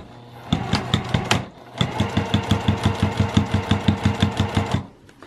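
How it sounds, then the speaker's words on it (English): A sewing machine stitches around a vinyl zipper pouch at a quarter-inch seam: a short burst of stitches, a brief pause, then a longer steady run of rhythmic, close-up needle thumps that stops abruptly, with no talk. "So at 1/4 inch, I'm just going to start sewing around my bag."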